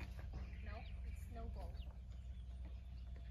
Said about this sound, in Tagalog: Gagmay ang manok.